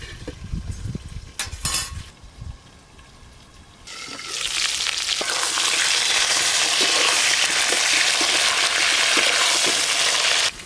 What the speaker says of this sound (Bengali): কেটে ধুয়ে রাখা আলু চাপা দিয়ে আলুগুলো ভালো করে ভেজে নেব।